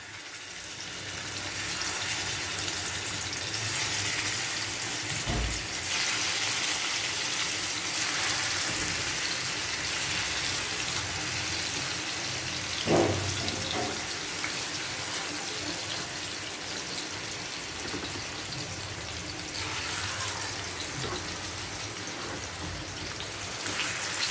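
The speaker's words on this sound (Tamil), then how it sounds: "இப்போ அந்த எண்ணெயிலே நம்ம ஊற வச்ச சிக்கனை வந்து நம்ம வந்து பொறிச்சு எடுக்கணும்" Marinated chicken frying in hot oil in a single pan, a dense, continuous close sizzle and crackle that holds steady throughout, with a few louder pops and spatters along the way.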